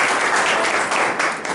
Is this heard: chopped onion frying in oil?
no